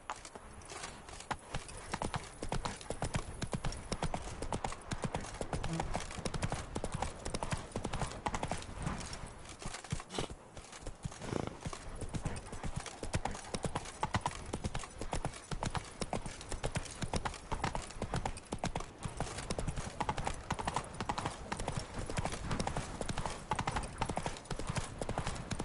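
Roach the horse's hooves clip-clop steadily and continuously in The Witcher 3, with a brief faint whinny blending into the rhythmic trotting.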